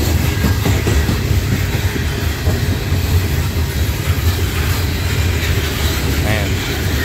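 A Norfolk Southern freight train led by locomotive NS 4107 rumbles past close by in Creighton, Pennsylvania, a loud continuous roar of rolling wheels and rail noise with rhythmic clatter throughout.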